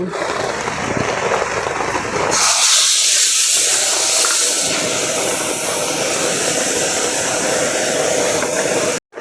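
Blended tomato paste tipped into a hot pan for a Bengali tomato and bhola fish curry, giving a loud, steady broadband sizzle that flares sharply after a couple of seconds and holds until it cuts off at the end.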